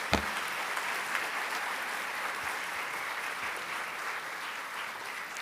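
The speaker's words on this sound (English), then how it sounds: "So I want you to appreciate them and maybe even applaud for them" An audience at a welcome event for a new student batch applauds its mentors and committee leaders, a steady wash of many hands clapping at moderate distance that holds evenly throughout, with no talking.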